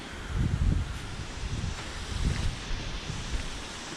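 Gusty wind blowing outdoors, a broad rushing noise with a few low buffeting surges against the microphone, no voices.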